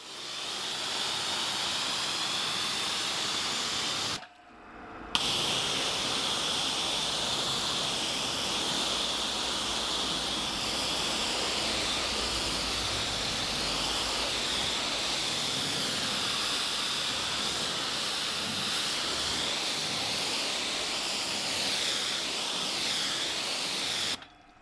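Water sprays steadily over a Porsche to rinse off abrasive wash suds, a constant close hiss that stops briefly before carrying on unbroken to the end.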